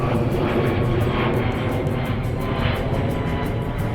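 A steady, loud aircraft engine rumble from a plane flying overhead at the Crown Estate, continuous throughout with a faint pulsing of wind noise.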